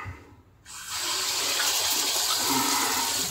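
Tap water from a bathroom sink rushes on after a brief quiet moment, a steady loud close hiss of running water used to wet the face before shaving with a Bic razor.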